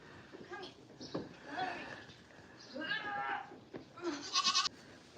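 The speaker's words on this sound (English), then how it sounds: "Now I need to name one of those goats Gerald." Several goats at a farm feeding time bleat in short, close calls scattered through the clip, with louder bleats toward the end, mixed with a person talking.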